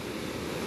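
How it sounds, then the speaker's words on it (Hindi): The waterfall on the Ken River at Raneh Falls in a rocky gorge gives a brief, steady rushing wash of water, dense and even, with wind noise on the microphone. "तो ये वाटरफॉल जो कैन रिवर पे है"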